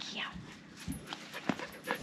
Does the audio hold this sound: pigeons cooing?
no